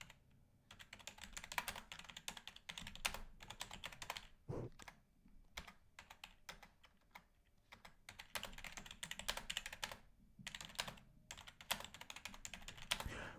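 Steady typing on a computer keyboard while entering a folder name, a quick run of close, crisp key clicks with brief pauses, no talking.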